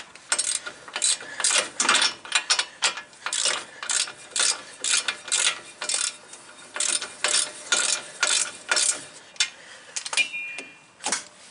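A hand ratchet clicks in quick, repeated strokes while tightening the corner bolts that draw the wheel hub into a 2017 Ford F-150 during a hub replacement, each burst of rapid pawl ticks close and crisp.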